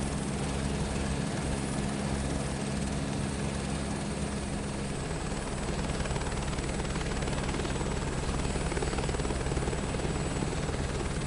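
A gyrocopter spools up for takeoff in Microsoft Flight Simulator 2024, giving a continuous loud rotor and engine buzz with steady low thrumming and a high whine, unbroken throughout.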